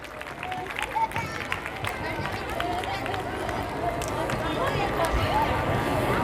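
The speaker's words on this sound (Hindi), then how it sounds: "तालियों की गड़गड़ाहट रुकनी नहीं चाहिए" A school annual function audience claps together in a dense, steady wash of applause that holds throughout, with faint crowd voices mixed underneath.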